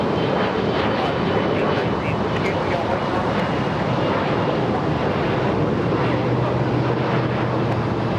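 A Delta Airbus A330neo jet airliner at LAX after an 11-hour flight produces a loud, steady roar of jet engine noise that fills the scene continuously, close and broadband, with no break throughout.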